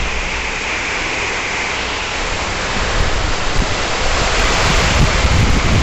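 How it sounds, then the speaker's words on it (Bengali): Wind gusts while rain pours outside a home, forming a dense, steady roar that swells louder and rougher partway through, with no voices. "হাওয়া দিচ্ছে আর বৃষ্টি হচ্ছে।"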